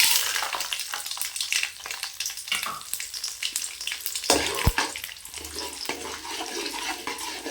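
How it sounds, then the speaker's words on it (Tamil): Mustard seeds spluttering and popping in hot oil in a pan, a dense, continuous crackle of sharp pops running steadily throughout, close and loud, with no talking. "எண்ணெய் சூடாயிடுச்சு, கடுகு சேர்த்துக்கலாம்."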